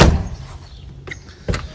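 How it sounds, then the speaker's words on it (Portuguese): Door of a 2001 Toyota Bandeirante swinging shut, a solid close heard right at the start, followed by a quieter interval and then another short knock or latch sound nearby. "Fechamento de porta perfeito."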